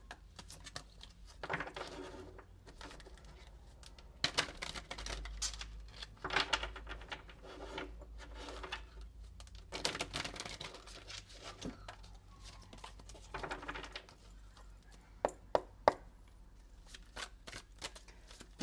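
Tarot cards being shuffled by hand in repeated quick riffling bursts, close and fairly quiet, with soft card slaps and brief pauses between bursts.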